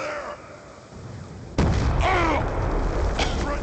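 A grenade goes off in Black Ops II as one sudden, loud, close blast, followed by a rumbling tail, with voices calling out in the middle of the battle.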